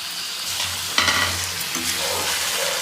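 Mutton liver fries in a hot pan with a loud, close sizzle, and a sharp scrape of the spoon stirring it comes early, followed by softer bubbling.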